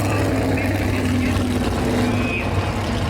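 A Midwest Lights sprint car engine roars loud and continuous, a steady dense drone that fills the whole stretch with no break.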